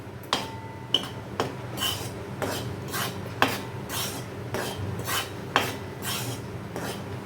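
Flour dry-roasting in a pan for thattai, stirred with a ladle: repeated scraping and rasping strokes with sharp metallic clicks, close and moderately loud, with no voices.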